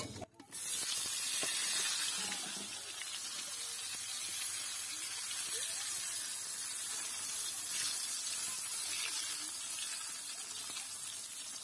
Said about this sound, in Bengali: পটল গুলো সুন্দর করে ভাজা